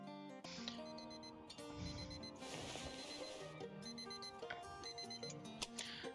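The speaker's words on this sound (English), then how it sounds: "turn off the alarm" An in-game alarm clock in House Flipper 2 rings steadily and fairly quietly, a continuous electronic beeping chime against a background music bed, with no talking.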